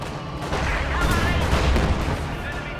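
A grenade bursts in a World War II strategy video game, a heavy booming blast with rumbling gunfire that swells and holds for about two seconds while a commentator talks over it.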